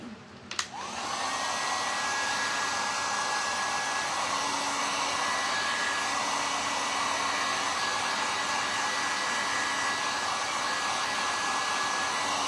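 A handheld hair dryer runs steadily and loudly from start to finish after a brief click, blowing on freshly painted decorated wooden plates from Hobby Lobby as a thin high whine rides over the broad rushing air.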